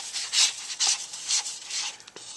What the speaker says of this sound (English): I have a flat stick so I can scrape the bottom of the cup